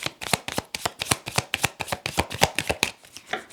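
Tarot cards are shuffled close up in quick, even riffling flicks, about a dozen crisp slaps over a few seconds with no voices.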